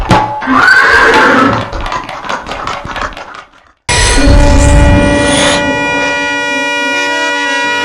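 During a Kannada village stage play, a horse neighs after a run of sharp cracks and clatter, followed by a loud sustained droning tone that lingers to the end.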